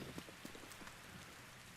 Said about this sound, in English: Can the rain just please go away now?